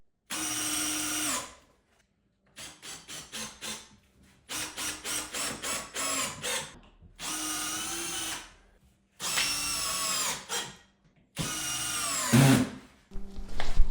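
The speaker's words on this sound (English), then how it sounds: "I'm just using 3-inch deck screws, and I'm just putting 1 in each stud" Power drill driving 3-inch deck screws into wall studs for a woodshop French cleat wall, heard in several separate bursts of whirring, each run ending as the screw seats, close and loud with short pauses between.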